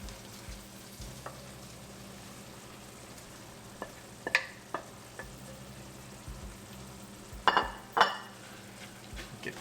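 Cooked eggplant stirred into a pan of frying crushed red pepper for baingan bharta, a soft steady sizzle running throughout, broken by a few sharp spoon scrapes and clinks against the pan toward the end.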